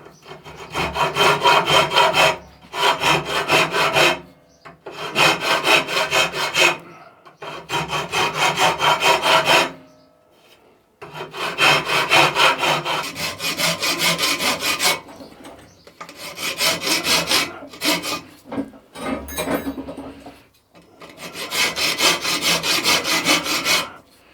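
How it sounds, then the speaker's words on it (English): A coarse body file worked by hand over a Honda CR 125 swing arm under repair, with bursts of loud, rasping back-and-forth strokes separated by short pauses of silence, close up and with no talking. "A nice coarse body file."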